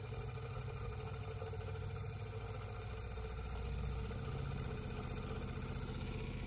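A Kromrey generator runs at about 1,000 RPM, giving a continuous, even, engine-like hum with a fine rapid pulsing throughout, fairly quiet and with no voices.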